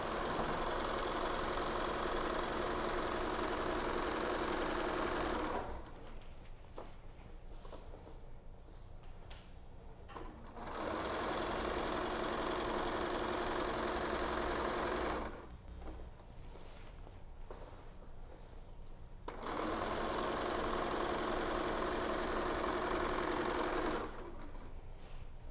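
A sewing machine topstitches a pillowcase in long steady runs of busy mechanical whirring, close and loud, broken by two short pauses of quieter handling.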